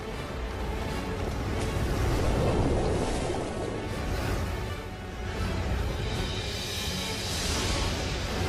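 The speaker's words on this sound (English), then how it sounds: "creating huge tides that race across the planet's surface" Huge tides and waves racing across a planet's surface, a broad, steady roar of surging water and wind that swells and eases without a break, loud and continuous with no voices.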